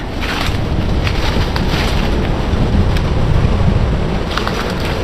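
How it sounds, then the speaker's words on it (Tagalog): Steady wind blows and rumbles against the microphone on an outdoor mountain slope, a loud, constant roar with no talk heard. "medyo may hangin dito"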